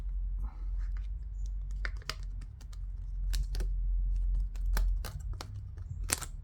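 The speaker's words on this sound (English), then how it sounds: "I'm only going to have to pop this one keyboard connector, and then that whole keyboard is going to come out" Small sharp plastic clicks and taps sound up close as a keyboard connector is popped loose inside an OP-1 synthesizer, irregular and quiet, with no talking.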